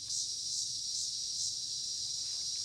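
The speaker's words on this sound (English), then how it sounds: "it's literally my little cicada buddy" A cicada sits right beside the microphone, giving a loud, continuous high-pitched buzz that pulses gently in a steady rhythm throughout, with no other sounds around it.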